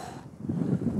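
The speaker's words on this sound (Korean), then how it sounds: "아침부터 바람 또 부네." Wind gusts across an open harbor where fishing is done, a steady low rushing blow that builds after a brief lull and holds loud and close, buffeting the microphone.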